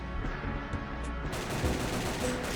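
Gunfire from a zombie shooter game on Roblox, a steady dense stream of rapid digital shots layered over game sounds, loud and continuous throughout.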